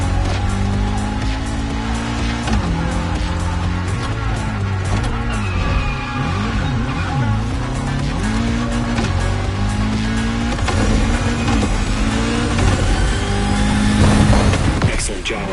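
A lightweight Toyota GR86 with a naturally aspirated engine races in The Crew, its loud engine rising in pitch and dropping at each gear change, with repeated up and down shifts and a final hard rev.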